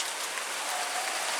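Rain falls steadily outside, a dense, even hiss of drops at moderate volume with no speech over it.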